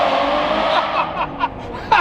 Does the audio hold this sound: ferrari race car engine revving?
yes